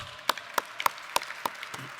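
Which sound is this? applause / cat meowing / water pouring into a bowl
applause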